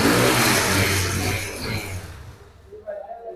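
A nearby ten-year-old self-start motorcycle engine runs loudly, its rumble fading over a few seconds, with faint voices at the end.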